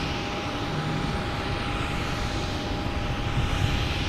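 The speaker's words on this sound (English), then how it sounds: "We have United Airlines next takeoff." A United Airlines airliner taking off at Boston Logan Airport gives a steady, fairly distant jet roar with a thin whine running through it, loud and unbroken, with no talk.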